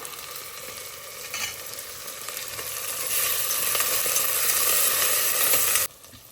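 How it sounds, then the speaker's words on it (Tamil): Tomato sizzles steadily in a hot pan, with occasional stirring scrapes. The frying hiss grows louder partway through and then cuts off abruptly near the end, with no talking. "இதையும் நல்லா வதக்கி விட்டுறலாம்."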